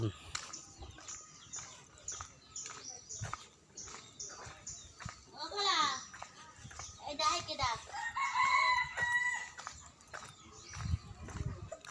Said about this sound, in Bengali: শুনতে পাচ্ছেন মোরগ ডাকছে